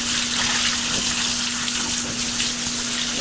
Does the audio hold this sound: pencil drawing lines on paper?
no